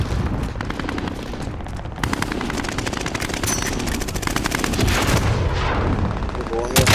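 Rapid bursts of machine-gun fire and booming blasts from an airstrike fill a Call of Duty: Rebirth match, loud and dense, with a voice briefly audible beneath.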